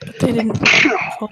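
A single sharp sneeze bursts out close by in the middle of conversation, with people talking just before and after it.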